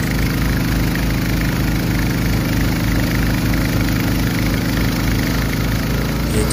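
A snow blower fitted with a homemade jet shooter runs at about eighty percent throttle, its engine giving a loud, steady close-up drone with constant vibration throughout.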